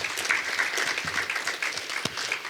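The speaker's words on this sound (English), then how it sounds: "So again, can we give them applaud?" An audience at a wellness centre conference claps in warm, steady applause that stays fairly close and even for a couple of seconds, with a few sharper individual claps standing out.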